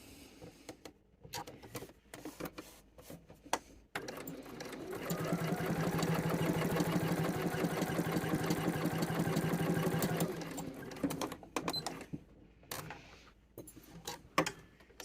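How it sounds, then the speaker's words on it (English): A sewing machine stitching down the side of a shirt sleeve placket in a steady, rapid whir lasting about five seconds. Quieter handling noises and pauses come before and after. "I'm going to stitch down the other side"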